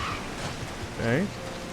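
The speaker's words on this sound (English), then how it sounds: "I love it when it rains in this game." In the video game Final Fantasy XIV, steady rain falls as a broad constant hiss, with a brief tonal voice or game sound rising over it midway.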